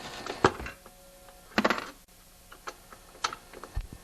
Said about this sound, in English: Just going to take the spark plug off first.